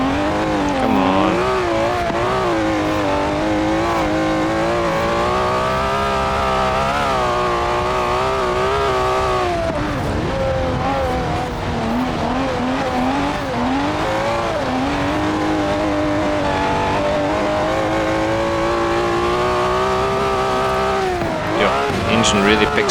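A 1967 Ferrari 330 race car in Forza Horizon 4 revs hard through the gears, its loud engine note rising and falling continuously, with tires squealing and someone talking over it throughout.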